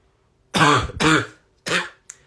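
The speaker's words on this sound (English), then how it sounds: "I got a cough" Three harsh, close coughs, two in quick succession and a third after a brief pause, followed by a short catch of breath.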